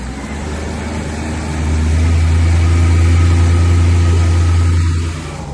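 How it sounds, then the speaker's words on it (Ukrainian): A Japanese 50-horsepower outboard motor on an assault boat runs steadily, its low engine drone swelling louder midway and then easing back down near the end. "Ось таким якісним японським двигуном на 50 кінських сил."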